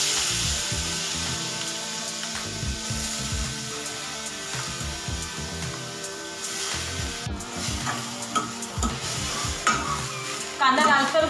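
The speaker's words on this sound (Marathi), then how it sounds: "तर ते आता कांदा टाकते" Finely chopped onion frying in a hot pan, with a loud, steady close-up sizzle and intermittent stirring scrapes, and no voices.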